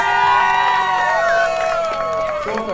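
An outdoor crowd at a mud-fighting contest in Kandava cheers and shouts in ovation for the winners, with loud overlapping voices and whistles close by and some clapping underneath.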